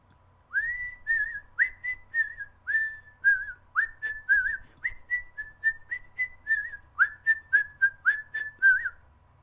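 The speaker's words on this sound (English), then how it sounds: "I need to stop whistling that" One person whistling a song close up, a clear bright tune in short, evenly spaced notes and little slides, steady and alone with no other sound.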